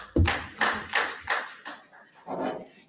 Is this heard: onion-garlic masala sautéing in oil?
no